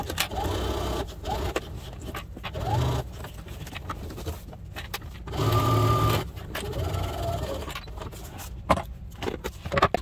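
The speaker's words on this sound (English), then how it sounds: "And then we will flip it and do that top stitch." A sewing machine top stitching a duffle bag runs in steady bursts, its rapid mechanical whir rising and pausing as the fabric is guided, close and loud.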